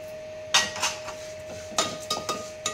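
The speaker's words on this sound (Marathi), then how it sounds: "आता मी घालणार आहे याच्यामध्ये पोहे पण असे छानसे भाजून घ्यायचे व्यवस्थित असे चांगलेपैकी." Dry flattened rice (poha) is tossed in a pan after lentils, making several sharp scraping and clinking strikes of a spatula against metal at irregular intervals, close and fairly clear over a steady background hum.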